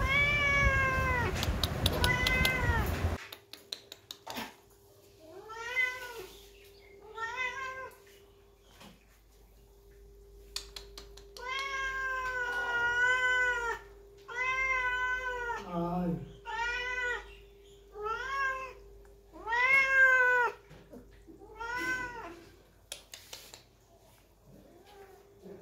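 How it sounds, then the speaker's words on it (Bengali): A house cat coming down from above meows again and again, giving a series of clear, drawn-out calls with short pauses between them. A person speaks briefly near the start. "এখানে দেখো বিড়ালে কি বলছে"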